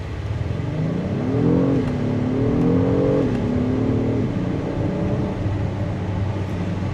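A 2026 Acura MDX Type S accelerates hard, its engine note climbing steadily through rising pitch with a brief shift dip, then settling into a steady hum from inside the cabin.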